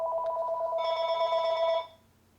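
A telephone rings on an outgoing call to a server, one steady electronic ring tone lasting almost two seconds before cutting off into near silence.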